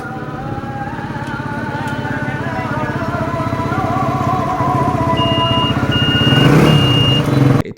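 A modified Honda CG125 motorcycle in retro classic style rides in from a test drive, its engine loud and close with a steadily rising throttle note and a brief high beep near the end.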